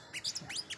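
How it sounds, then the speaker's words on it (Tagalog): Tamsi, a small sunbird in the Philippines, gives a quick burst of several high, thin chirps and tweets, faint and fairly close, with no voices. "Yung ibon na yan ay tinatawag po namin yan dito sa amin na tamsi."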